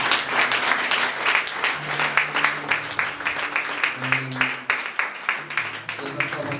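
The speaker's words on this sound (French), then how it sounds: "Acclame le Seigneur ce soir." A church congregation applauds during an evening gospel service, steady rhythmic clapping with voices and cheering mixed in throughout.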